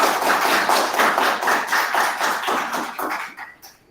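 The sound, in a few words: applause for the speaker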